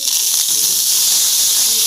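Mustard seeds and urad dal splutter in hot coconut oil, a loud, steady, close hiss of frying that runs without a break, with a faint low murmur beneath it.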